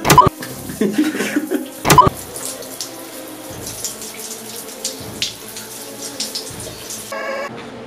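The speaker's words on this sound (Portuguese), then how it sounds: "Entra debaixo do chuveiro." Shower water runs steadily throughout, with splashing under it and a couple of sharp clicks early on, close and moderately loud.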